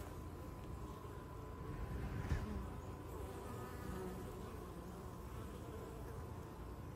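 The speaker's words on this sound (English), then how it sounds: "the bees are going in." A honeybee swarm moves into a swarm trap whose lid rests ajar, giving a steady, dense hum of many bees buzzing close by, with one brief louder swell near the middle.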